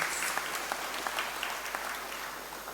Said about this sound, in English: So let us give them a round of applause.